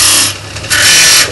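A small sharpener shapes a little walnut dowel for a wood carving, giving close, loud, whirring rasps in two short bursts with a brief pause between them.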